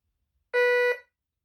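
A DR. OTEK MT-XR metal detector gives one short, clear electronic beep, a steady pitched tone lasting under half a second, close and loud against silence.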